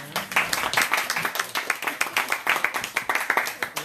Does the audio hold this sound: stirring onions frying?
no